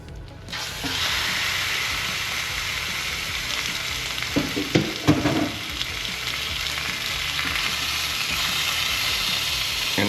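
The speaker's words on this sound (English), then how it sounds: "once our cast iron is nice and hot, we're gonna get the whole tenderloin." A whole beef tenderloin sears in a hot cast iron pan with a loud, steady sizzle and hiss that runs throughout, while a few sharper crackles and clatters break through midway.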